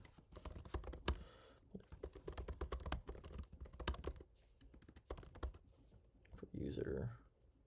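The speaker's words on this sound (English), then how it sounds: "So we're going to go ahead and type that in" Quick, uneven keystrokes on a computer keyboard, close and clear, with short pauses between bursts of typing and a brief voice near the end.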